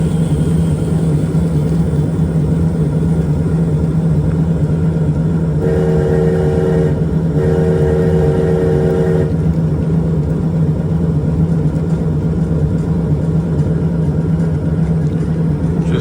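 A twelve-car model railroad train runs with a steady mechanical hum and rumble throughout, and a brief two-part whistle or horn blast sounds in the middle.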